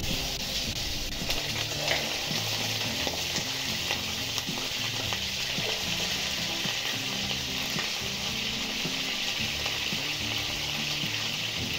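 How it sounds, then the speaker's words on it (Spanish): Chicken pieces fry in hot oil in a pot, giving a loud, steady, continuous sizzle with faint clinks and bubbling beneath it and no talking. "Aquí es donde vamos a freír nuestras piezas de pollo."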